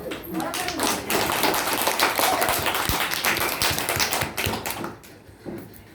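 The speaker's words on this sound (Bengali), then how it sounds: "সবাই করতালি দাও।" A crowd claps at a school farewell ceremony held at Sitalda Shishu Shiksha Kendra, a dense wash of applause that swells for several seconds and then thins out, with voices speaking over it.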